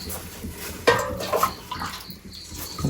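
Well water pumped by motor pours into a pot for drinking, a splashing, gurgling stream with a sharp clank near the start, close and fairly steady.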